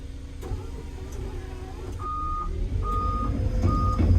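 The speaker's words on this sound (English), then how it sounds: "To get the machine to move, what we need to do is press that park brake, turn the revs up a touch, and then we can pull this lever back." A new bulldozer starting to move, its engine droning low while a reversing alarm beeps three times in steady, evenly spaced pulses.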